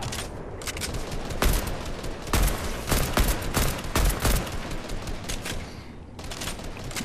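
Rapid bursts of video game gunfire crack out repeatedly, with sharp loud shots spaced through a steady background of battle noise, no voices over it.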